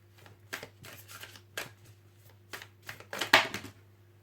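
Oracle cards being shuffled and drawn by hand, a series of soft riffling flicks and taps with a sharper snap near the end, quiet and close.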